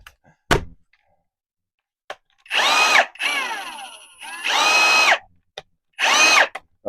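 A Hercules 20-volt cordless angle drill runs in several loud, close bursts of whirring motor and gear whine, rising and falling in pitch, separated by clicks and short silences.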